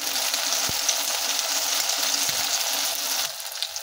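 Spice paste with garlic frying in a pan, a close, steady hiss with two soft knocks from stirring, the sizzle dropping slightly toward the end.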